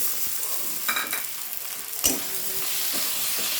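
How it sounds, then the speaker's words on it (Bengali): Chopped tomatoes sauté with ginger-garlic paste for a fish curry, giving a continuous loud sizzle broken by a few stirring scrapes and one sharp utensil knock midway. "টমেটোটা দিয়েও ভালোভাবে আমি কষিয়ে নেব।"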